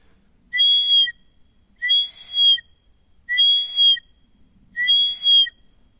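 Four separate high, clear blasts from a homemade elder-wood whistle, evenly spaced, each with a slight two-part rise, loud and close against silence, in a forest.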